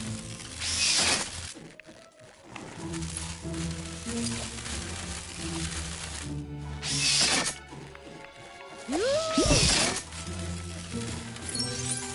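Glass shattering in Lego Marvel Super Heroes 2, bright crashing bursts with tinkling shards recurring three times over a game soundscape, alongside mechanical clinks and a whooshing sweep.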